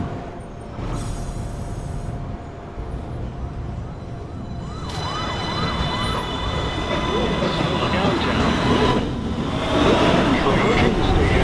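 A New York City subway 1 train pulls out of the 207th Street station, a steady loud rumble that swells toward the end, with rising motor whines and wheel squeal.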